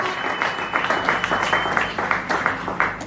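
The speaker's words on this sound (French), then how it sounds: "Applaudissez encore très fort pour le Seigneur." Church congregation at a Sunday worship service applauding loudly, a dense, rhythmic wash of many hands clapping close by with pulsing beats, continuous throughout.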